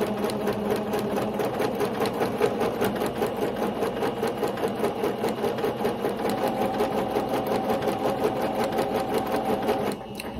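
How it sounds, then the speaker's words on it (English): A sewing machine runs steadily at a fast, even rhythm of stitches on a sock, close and clear, stopping abruptly near the end. "we got the second sock on the sewing machine"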